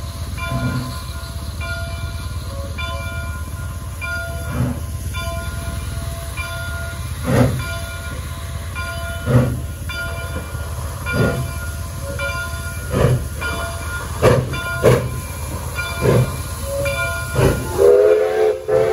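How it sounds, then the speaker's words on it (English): Steam locomotive 3716 on the Kettle Valley Steam Railway chuffs in slow, regular exhaust beats amid steady hissing steam, the beats quickening as it pulls away; a whistle tone joins near the end. "3716 and the train are heading back for Prairie Valley once again"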